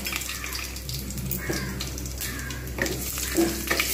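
Whole dried chillies, cumin seeds, fenugreek and nigella seeds tempering in hot soybean oil in a pan, giving a steady close sizzle and crackle with a few sharper pops toward the end, no voice.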